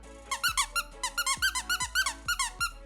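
A Pinkie Pie plush toy squeaks repeatedly in quick, uneven bursts of high, bright squeals. It is loud and close, with no voices.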